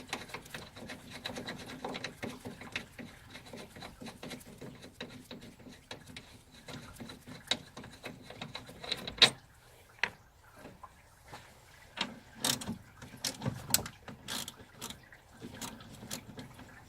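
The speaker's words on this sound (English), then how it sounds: "Now take these 2 upper radiator bolts out." A ratchet removes the 13 mm upper radiator bolts on a 2000 GMC Sierra, producing quiet, rapid clicking bursts with occasional sharp knocks and scrapes of metal.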